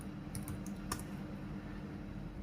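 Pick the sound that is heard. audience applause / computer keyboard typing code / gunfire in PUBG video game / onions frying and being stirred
computer keyboard typing code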